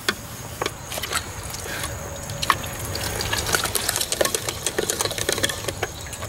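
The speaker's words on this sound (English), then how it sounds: "you just crank it and force the tomatoes through the auger" A hand-cranked tomato strainer and sauce maker grinds as tomatoes are forced through its auger, giving a steady close mechanical whir with irregular clicks and squishy knocks throughout, no talking.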